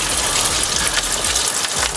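Antifreeze coolant pours from a Ford radiator down into a drip pan with a loud, steady gushing splash, close up and with no speech.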